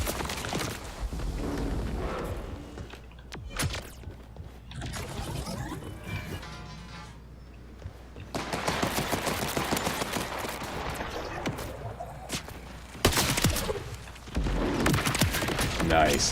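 Repeated grenade blasts in the video game Borderlands 4 burst out in quick succession during combat, mixed with gunfire and mechanical clatter, with a player talking over much of the action.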